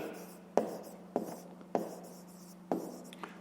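A pen writes in a notebook during a fifth-grade math exercise, producing quiet, close scratching strokes punctuated by four or five distinct taps as each stroke or figure begins.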